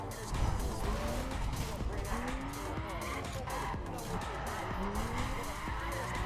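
A Porsche races in The Crew video game, its engine revving hard and shifting while tires squeal and skid, a loud, continuous stretch of racing noise.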